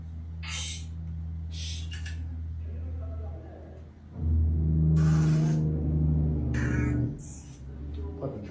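Heavy trucks rumble past outdoors, a low engine drone swelling louder midway as one passes close, then easing off, with brief voices breaking in over the noise.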